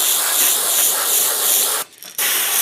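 An old no-name airbrush, about fifteen years old, sprays a steady close hiss that cuts out briefly for a moment before resuming at full strength.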